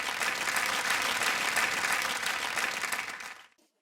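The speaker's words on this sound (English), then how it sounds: "A warm round of applause for Anvi Yadav from DAV Public School in Gurugram." Audience applause at a spelling bee, a dense even clapping from a crowd that holds steady and then fades out quickly near the end.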